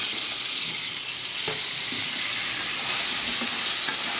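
Potatoes frying in a pan with turmeric, a steady loud sizzle filling the whole stretch, with a few soft stirring clicks and no voices.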